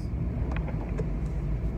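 Steady road rumble and tire noise heard from inside a car driving on a rainy day, continuous and fairly loud with faint clicks and taps over it, no talk.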